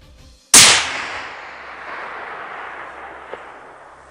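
A single sharp, loud report from a Ruger Precision Rifle fired outdoors at a rock target, with a sudden crack followed by a long, fading rolling echo.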